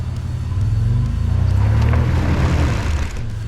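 Rear tire of a third-generation Toyota 4Runner spinning in a dirt hole, a close, loud, steady engine drone and churning rumble that swells and holds for a few seconds before easing off.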